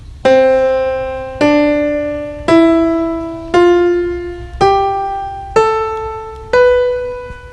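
Seven single tones played one after another at a steady, unhurried pace, each rising a step higher and ringing before fading, like a keyboard ascending a scale.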